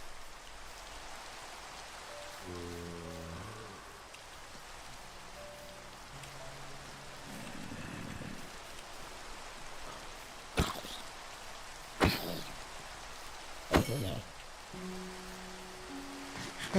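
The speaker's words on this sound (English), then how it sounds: "This is what happens whenever it starts raining out." Rain falls steadily outside as a constant hiss that runs the whole way through, with a few brief tonal beeps and three sharp clicks rising above it.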